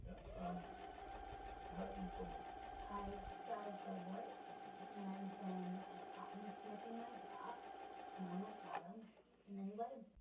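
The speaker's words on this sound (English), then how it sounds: "I'm stitching all the way around using a 1-inch hem allowance" A sewing machine stitches steadily around a maxi skirt hem with a 1-inch allowance, a constant close mechanical hum and rattle that fades near the end, while a voice talks over it.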